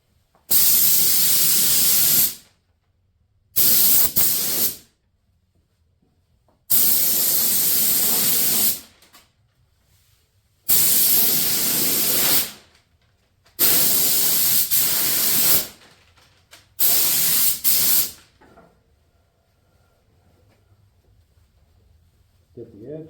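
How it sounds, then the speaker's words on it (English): Spray gun applying two wet coats of gray primer sealer to a 1972 Suburban convertible roadster, six loud close hissing bursts of a few seconds each separated by short silences. "high-tech primer sealer gray, 2 medium wet coats."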